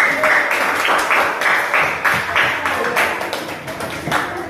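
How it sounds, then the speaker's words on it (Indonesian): Students in a classroom break into a burst of group applause, with quick, close hand claps that pulse unevenly for several seconds before tapering slightly near the end. "Tepuk tangan untuk kita semua dulu."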